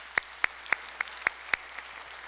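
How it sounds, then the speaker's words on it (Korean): A short run of about six sharp, evenly spaced claps, faint and somewhat distant, rises out of the quiet of a Korean church congregation's Thanksgiving Sunday worship service, with no talking over them. "우리 하나님께 한번 감사의 박수를 드립시다."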